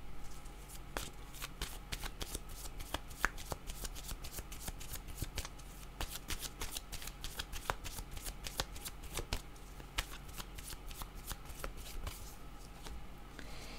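Cards are shuffled continuously for a reading, giving rapid crisp riffling clicks in an even rhythm, close and fairly quiet.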